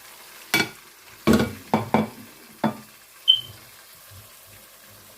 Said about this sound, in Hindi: दो 3 मिनट के लिए तमाम मसाले हम अच्छे से फ्राई कर लेंगे